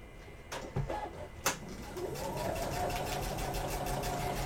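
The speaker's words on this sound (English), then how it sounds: "I'm going to stitch along that 1/4 inch seam all the way across" A sewing machine runs steadily as it stitches a quarter-inch seam across a quilted fabric piece, its motor a fast, even whir that starts after a few faint clicks and handling sounds and continues at low volume.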